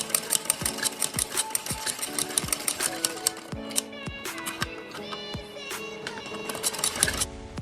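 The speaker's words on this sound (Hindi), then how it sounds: "कच्चा करने के बाद हम इसके ऊपर बीच में सिलाई लगा देंगे" Electric sewing machine stitching down the middle of a blouse back neck piece after pleats are tacked, running in fast rattling bursts with brief pauses and a mechanical clatter throughout.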